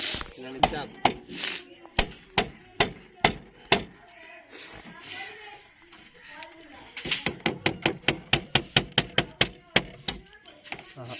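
A hammer drives nails while a cheap pigeon cage is built, striking in quick sharp knocks: a run of evenly spaced blows, a pause, then a faster, denser burst, with people talking nearby.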